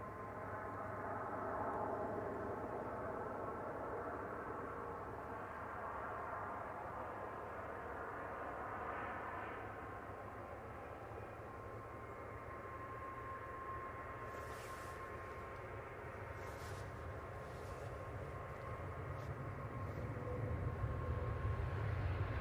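A Turkish Airlines Airbus A330 airliner arriving at Manchester Airport, its steady engine roar sustained and moderately distant, swelling slightly toward the end with no talk over it.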